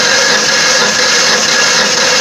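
2005 Ford Ranger 3.0 V6 engine cranking over on the starter during a compression test, a loud, continuous, evenly droning whir heard close up.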